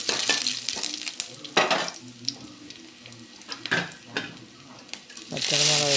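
Dried red chilies and curry leaves crackle in hot oil while a spoon stirs them, sizzling punctuated by scraping knocks and a rising hiss at the close.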